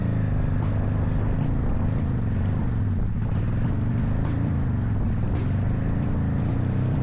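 A low, heavy car engine drone runs steadily throughout, labored and rumbling, straining uphill under load just before the car stalls.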